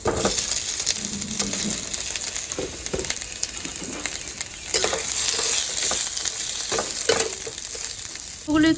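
Lightly mashed potatoes fry in a hot pan with fried garlic and chili spice paste, a close continuous sizzle broken by stirring clatter and scrapes.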